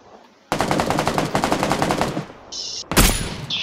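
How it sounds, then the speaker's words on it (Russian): Automatic gunfire rips out in a desert shooter video game, a loud rapid burst of close shots lasting over a second, followed by a brief tone and a sharp final blast. "Где-то кто-то стреляет."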